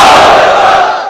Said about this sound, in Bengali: সবাই মিলে তিনটা পড়েন লিল্লাহি তাকবীর